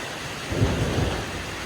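Rain falling with a low roll of thunder, a brief deep rumble swelling and fading over a steady patter in a Thai garden.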